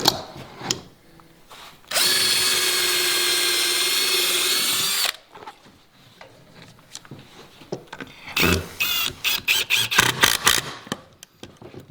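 A power drill driving a screw whirs loudly in one steady burst of about three seconds, followed by a rapid series of sharp clicks and knocks.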